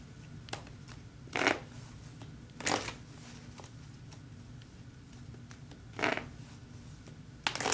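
Tarot cards are shuffled close by in a quiet room, four brief riffling bursts spread out between stretches of near silence.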